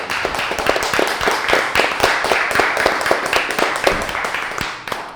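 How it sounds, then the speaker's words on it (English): A studio audience applauds guest Daniel Austin, a plant-based athlete, on a vegan competition show. Dense, steady clapping runs for about five seconds, close and loud, with no talking over it. "Please, a round of applause for Daniel Austin."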